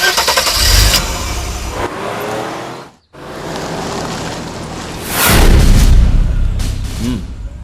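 A vehicle engine cranks and starts, then revs up loudly as it pulls away, under a dramatic movie scene with a brief cut to silence midway.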